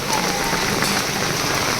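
Heavy rain falls in Surat, a dense, even hiss of drops pattering on surfaces, loud and continuous without a break.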